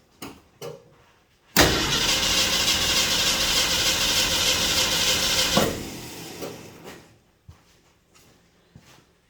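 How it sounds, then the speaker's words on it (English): A long-stored 1966 Ford Mustang with a 289 V8 cranks over loudly and steadily for about four seconds without firing, framed by a few faint knocks and clunks before and after. "Spin it over a little more, get some of that trash out of that line."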